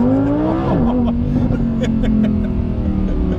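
A Lamborghini Huracan Performante accelerates hard: its engine note climbs and holds as a loud, continuous, close-up roar.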